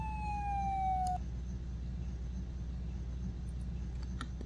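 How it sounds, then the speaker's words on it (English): An emergency vehicle siren in the video game Flashing Lights sounds as one sustained, slowly falling electronic wail for about a second, then cuts off abruptly, leaving a low steady engine hum. "But here's the siren."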